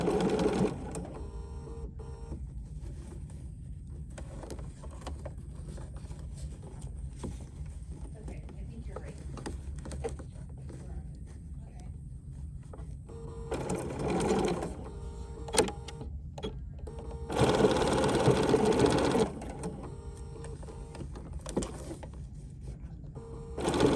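A Bernina sewing machine stitches in steady motor-driven runs with a double cording foot, pausing between bursts and then surging again briefly for a back stitch, with a person talking quietly in between.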